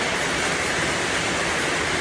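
Heavy rain pours down on a farm, a loud, unbroken broadband roar that stays even throughout.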